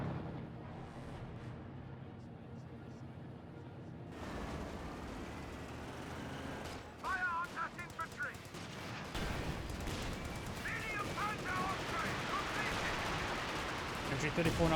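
Company of Heroes 2 battle with MG42 machine gun fire: bursts of rapid gunfire and explosions grow louder after the opening seconds, layered over a dense, noisy battlefield din.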